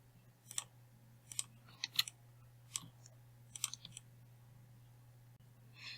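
Faint keyboard clicks of a Control J shortcut in Photoshop: several light taps scattered over a few seconds, close and quiet above a low steady hum.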